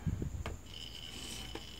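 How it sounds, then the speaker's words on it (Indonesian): A buzzer on the early warning system board inside a faulty T2 set-top box chirps with a thin, steady high-pitched insect-like tone, close and fairly faint, with a few soft clicks from handling early on. "buzzer EWS masih berderik"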